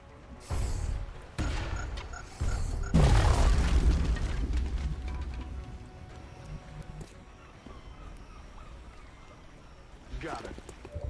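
A grenade detonates in XCOM's Long War mod, a deep, loud boom with a rumbling tail that fades over a few seconds, set among quieter game ambience with a voice talking nearby.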